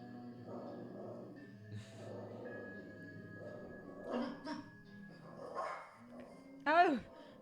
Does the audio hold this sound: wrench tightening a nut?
no